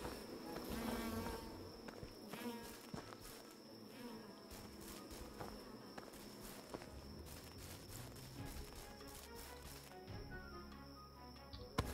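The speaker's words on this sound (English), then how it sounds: "I'm covered in bees!" A swarm of bees buzzes in the fantasy game Swords 'n Magic and Stuff, a faint continuous insect drone mixed with footsteps and small game clicks, with no voices.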